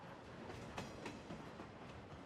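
A moving train in a video game rumbles steadily with a dense, continuous roar and faint rattling, close and fairly loud throughout, with no voices.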